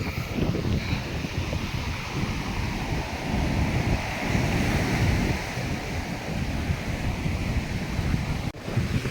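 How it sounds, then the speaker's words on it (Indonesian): Continuous roar of heavy surf crashing steadily at Jayanti Beach on the south coast of West Java, with strong wind buffeting the microphone throughout and no voices. "ciri khas deburan ombak yang demikian besar"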